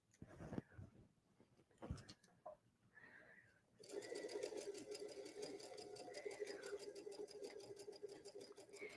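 After a few seconds of speech, a sewing machine fitted with a blind hem foot runs steadily, stitching a blind hem with a close, rapid, even mechanical whir that continues to the end.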